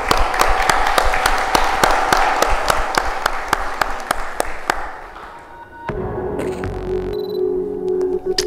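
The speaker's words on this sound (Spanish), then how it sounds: "Y le damos un aplauso" Audience applause at a presentation on cantonal business activity and inclusive growth in Costa Rica: steady, evenly spaced claps for about five seconds that thin out, followed by a softer mix of room sounds.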